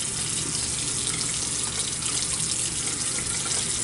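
Steady tap water running from a faucet into a sink while a face is wetted during a night-time skincare routine, a continuous broadband splashing rush held close and even throughout, with no talking.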